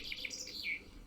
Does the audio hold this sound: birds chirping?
yes